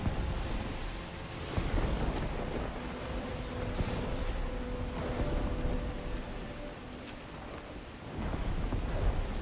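Steady rain falling in the video game Horizon Forbidden West: Burning Shores, a continuous wash of droplets with low rumbles beneath, moderately loud throughout with no voices.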